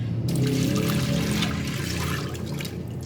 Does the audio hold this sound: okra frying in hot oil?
no